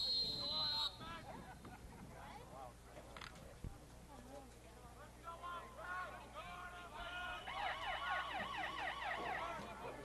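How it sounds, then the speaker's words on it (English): A wavering siren marks the end of the third quarter at a 2013 varsity high school football game between the Cougars and Forest City, rising over crowd babble in the final seconds, with a brief tone at the very start. "Siren signifying the end of the third quarter"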